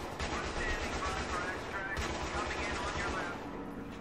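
Battlefield 3 gunfire comes in dense, rapid automatic bursts that fill the whole clip, with voices chattering beneath the shooting.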